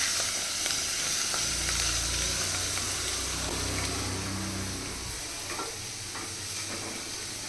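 Vegetables with coriander leaves sizzle loudly in a hot pan for vegetable pulao, a steady close frying hiss with intermittent scraping as they are stirred.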